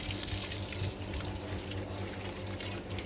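Water pours steadily to soak a container garden planted in an old reused tire, making a continuous close rushing flow with no pauses.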